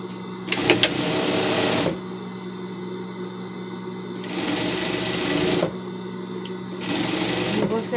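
A sewing machine stitches a pet bed cover in three separate bursts of rapid, close whirring, with quiet pauses between them.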